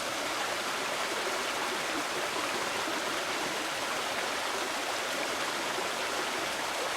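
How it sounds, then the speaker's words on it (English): A small creek in a Ukrainian mountain village makes a steady, dense rush of flowing water, close and unbroken throughout with no voices. "And we've got a little creek here."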